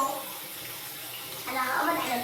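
Water running into a bathtub as it fills for a child's bath, a steady splashing rush that swells louder toward the end, with faint voices in the background.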